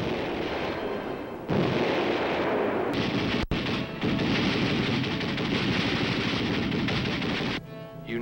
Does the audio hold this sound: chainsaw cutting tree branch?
no